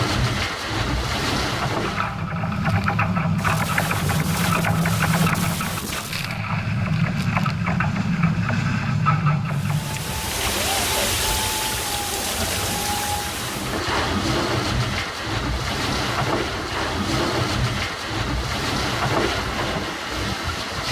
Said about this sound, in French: Un bateau, le vent, la mer